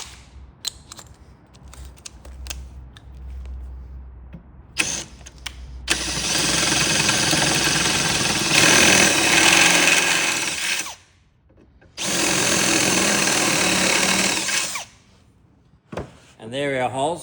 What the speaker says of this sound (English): And then if I use a bit bigger drill,